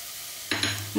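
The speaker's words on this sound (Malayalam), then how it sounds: "ഈ ഇഞ്ചിയും വെളുത്തുള്ളീൻ്റെയും പച്ചമണം മാറുന്നവരെ നമുക്കൊന്ന് നന്നായിട്ട് ഇളക്കി കൊടുക്കാം" Crushed ginger and garlic hit a pan and are stirred, a quiet hush giving way to a sudden bright sizzle with quick scraping strokes.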